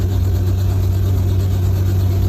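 A Robinson R44 piston helicopter engine warms up on the ground at around 60 to 70 percent power, producing a loud, steady, close engine drone with even low rumble and no talk.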